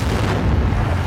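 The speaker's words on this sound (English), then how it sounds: "Vengeful explosion there." A single loud explosion in the video game Metal Eagles gives a dense, rumbling boom that fills the brief moment with no talk over it.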